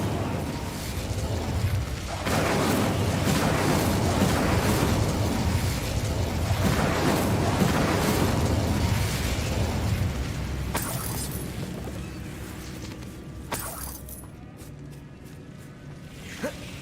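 An Incendio fire spell goes off in the Hogwarts Legacy video game, a loud roaring whoosh of flame that holds for about ten seconds, then fades under a few bright crackling pops.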